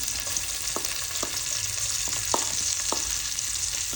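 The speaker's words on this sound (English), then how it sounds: "Now we put in the onions in the same pan, by the way." Onions sauté in a pan with a constant bright sizzle, close and fairly loud, broken by a few sharp ticks of a utensil against the pan.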